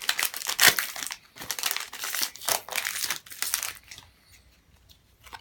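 RSPCA Pets and Creatures trading card packets being torn open: close, crisp crinkling and ripping of foil plastic in several quick bursts, then a quieter, near-silent tail.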